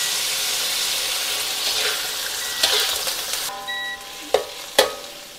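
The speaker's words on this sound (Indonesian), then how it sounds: "Tambah air sikit." Carrots and vegetables sizzling in a hot pot as a little water is poured in, a steady hiss and bubble with a couple of sharp clinks near the end.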